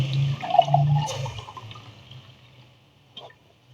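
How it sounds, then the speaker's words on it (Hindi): Water poured from a glass into a pot of cooked chicken and fried meat for biryani, a brief splashing gush that fades quickly, followed by a faint clink near the end. "अब हम पानी ऐड करेंगे।"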